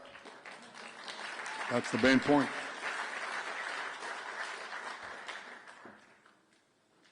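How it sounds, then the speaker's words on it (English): Audience at a conference in Jerusalem breaking into moderate applause that swells and fades over a few seconds, with someone speaking briefly over the clapping. "well, you should applaud that."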